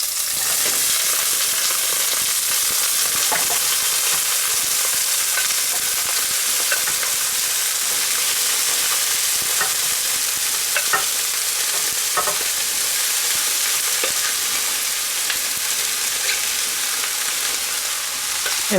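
Vegetables stir-frying in vegetable oil in a deep skillet, a steady loud sizzle with frequent scraping stir strokes throughout, no talking.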